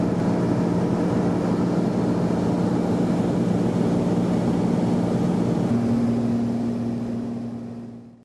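Inside a small airplane flying through clouds and rain, a loud, steady engine drone fills the cabin without a break and holds one pitch the whole time, with no talking.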